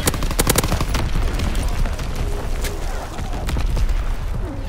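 An artillery battery fires in a video game, a rapid barrage of sharp booms and cracks layered thickly throughout, loud and close with heavy low-end rumble.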